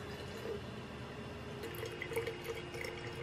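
Liquid pours and trickles steadily over nuts and bolts in a container, making a continuous watery splashing with small drips and clinks, close and moderately loud.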